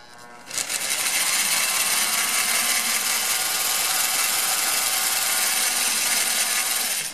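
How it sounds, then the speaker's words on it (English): A power drill whirs steadily at high intensity for several seconds after a brief quieter slow start, a continuous mechanical drone as it bores into an outdoor hose spigot. "try to line up your drill bit right in the middle of that"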